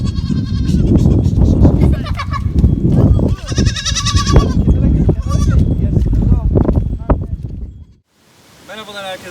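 A large herd of goats, around forty to fifty head, bleats constantly and overlappingly outdoors at close range, loud and busy, with a final lone bleat after a brief lull.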